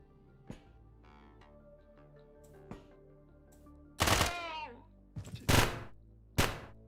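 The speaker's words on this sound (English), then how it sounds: "He's shooting this thing." Gunfire in the video game Quasimorph: a few sharp isolated shots early, then loud bursts of automatic fire with ringing echoes and a final crack, separated by short pauses.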